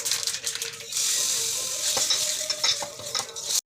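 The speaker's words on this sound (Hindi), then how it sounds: "फिर इसके बाद में हम तड़का लगाएंगे।" Mustard seeds, cumin and asafoetida sizzling in hot oil for a tadka, a steady loud crackle and hiss with scattered seed pops, close and continuous with no talking.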